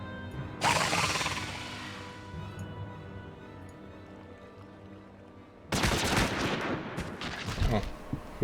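Gunfire in the video game Final Fantasy XIV: a loud burst of shots that fades out over about a second and a half, then a second sustained volley later, with steady game ambience between them.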